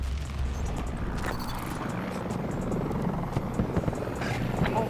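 A video game helicopter throbs steadily at mid distance, with gunfire or impacts popping over it.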